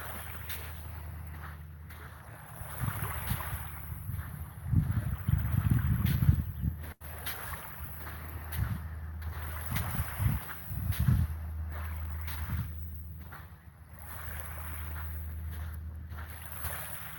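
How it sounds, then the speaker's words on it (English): Gentle waves lapping on a Lake Michigan beach at sunrise, soft irregular splashes and washes under light wind, quiet and calm with no talk. "listen to the lapping waves"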